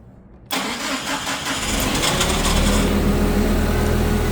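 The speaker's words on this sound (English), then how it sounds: "Sounds like the starter spins a little bit after the start, but still turns on perfectly fine." A 2008 Mitsubishi Caterpillar 5000 lb dual-fuel forklift engine cranks briefly on its starter, then catches and settles into a loud, close, steady idle with the starter whirring a moment after the start.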